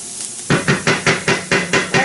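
Flour being stirred and toasted in a pan for shrimp and grits, heard as seven evenly spaced, close scraping strokes of a utensil against the pan, each a short gritty swish.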